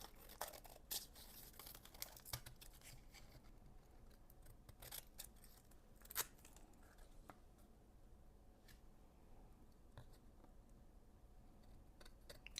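Scissors cut through gel-printed paper in a quiet room, making faint, scattered snips and soft paper rustles with irregular spacing. The sounds are close but very low in level.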